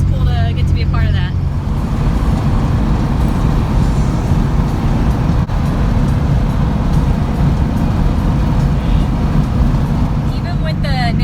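A lowered VW Beetle with narrow-beam front end cruising at 65 mph on the interstate, a loud steady road and engine roar throughout, unbroken and close.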